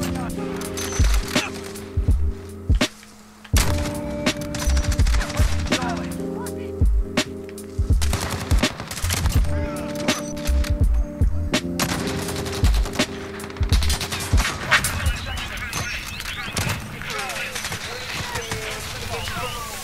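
Rapid bursts of gunfire from a sniper class loadout in a first-person shooter game, loud and repeated in clusters, with layered game effects and a player talking throughout.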